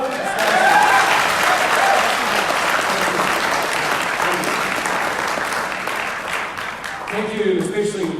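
Audience at a 2020 New Zealand election debate applauding, a dense sustained wash of clapping that peaks early and slowly fades, with a voice speaking near the end.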